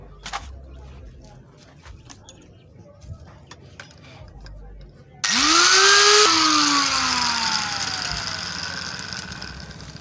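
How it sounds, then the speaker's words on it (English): An angle grinder cuts the threaded end off a car transmission plug, starting abruptly midway as a loud, sustained whine that dips in pitch under load and stays steady to the end, following quieter ticking workshop sounds. "you have to remove this part and also this part without the threads using a grinder"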